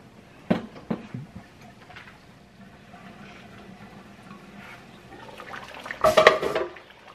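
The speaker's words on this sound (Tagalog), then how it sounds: "Tatakpan natin para tuloy-tuloy ang paglambot." Metal lid clattering onto a pot of simmering beef pata, a few sharp clanks near the start and a louder jangle of metal toward the end, with quiet kitchen sounds between.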